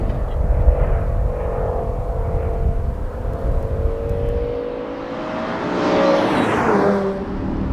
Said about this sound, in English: we know when the car's coming back to camera because you can just hear it